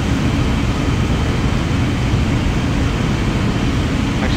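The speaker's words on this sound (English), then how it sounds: "Alright, here we are taxiing in the gate Bravo 4." Simulated PMDG 777-300 airliner taxiing to the gate in Microsoft Flight Simulator 2020, a steady, loud broadband jet engine hum and cabin rumble with no variation.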